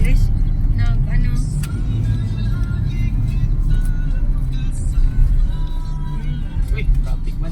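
Heavy road traffic on a coastal road in Davao City, with a steady loud rumble of cars, jeeps and engines passing close by throughout while people talk.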